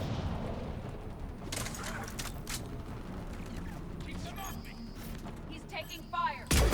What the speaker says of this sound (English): He's taking fire!